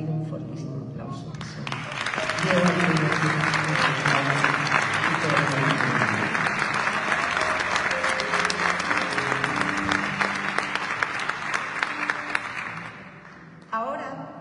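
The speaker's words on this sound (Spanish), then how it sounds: "pido un fortísimo aplauso" Loud, dense audience applause at a flamenco and copla concert, swelling quickly and holding steady for over ten seconds before cutting off abruptly near the end.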